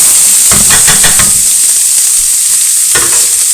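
Carrots sizzle loudly in a lightly oiled pan while making a chicken and vegetable soup, a steady bright hiss broken by a few stirring scrapes near the start and again toward the end, with no voices.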